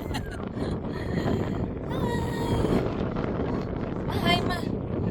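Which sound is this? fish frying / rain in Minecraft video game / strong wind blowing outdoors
strong wind blowing outdoors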